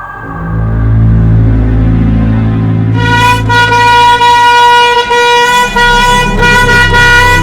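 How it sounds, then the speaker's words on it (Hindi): A loud vehicle horn blares continuously and up close over a rumbling engine, its pitch jumping higher partway through and then holding steady. "हॉर्न मारो"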